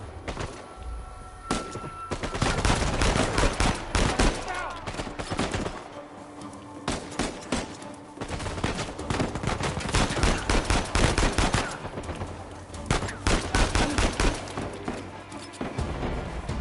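Rapid gunfire from Uncharted 4 crackles almost continuously, with dense bursts and sharp shots repeating through the whole stretch at steady, loud intensity, with only short gaps between volleys.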